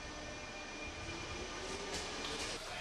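A subway train speeds along underground, its steady, loud rumble and rail roar continuous throughout with no talking.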